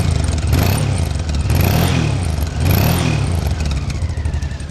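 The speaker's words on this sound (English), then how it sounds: "Nice smooth engine. Reminds me of a Gold Star, got that tweeting exhaust note." A 1992 Honda XRV750 Africa Twin V-twin rumbles close by, revving up and down in a few repeated swells, with a smooth throbbing engine and a chirpy, tweeting exhaust note.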